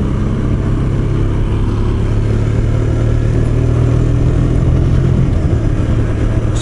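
A KTM 125 Duke motorcycle on a road during break-in riding gives a loud, close, continuous engine drone as it accelerates, with a slight shift in engine note near the end as it drops a gear.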